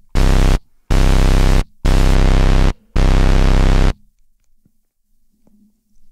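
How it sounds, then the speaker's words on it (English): Four loud bursts of steady hissing white and pink noise from an Audiothing SX1000 software synthesizer, each about a second long with short silent gaps, then quiet with faint handling sounds. "Here you can add noise, white and pink noise"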